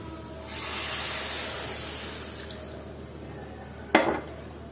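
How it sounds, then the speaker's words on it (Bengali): A cup of water goes into a hot pan of dried pomfret fish curry, a soft hissing spray rising and fading, then a sudden loud splash and sizzle near the end. "আর এখন দিয়ে দিব হচ্ছে এক কাপের মতো পানি"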